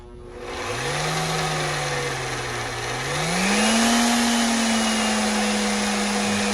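VEVOR 6-in-1 magnetic drill press starting up and running, with a steady motor whine that rises and settles at a higher pitch, loud and close, with no talk.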